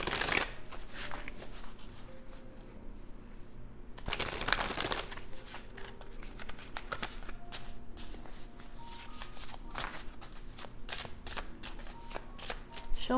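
A new tarot card deck is shuffled by hand close up, giving repeated riffling and flicking bursts with a louder burst of cards near the start and crisp snaps throughout.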